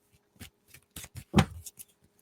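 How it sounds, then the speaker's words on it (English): Tarot cards are shuffled by hand in a few short, soft riffling bursts with quiet gaps between them, close by and with no talking. "I'm going to try not to shuffle these cards too much."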